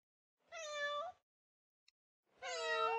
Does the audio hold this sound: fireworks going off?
no